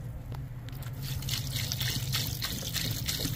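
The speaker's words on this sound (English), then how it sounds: "we're gonna top it off with water" Water poured over a container of corn for hog bait, a steady close trickle and splashing that swells slightly partway through and continues without pause, with no talking.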